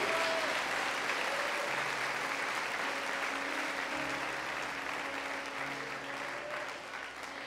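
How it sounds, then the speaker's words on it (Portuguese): Sustained applause fills a church during a night vigil service, steady and dense throughout with a faint tonal hum underneath. "Se essas palmas é para Jesus, você vai, irmão,"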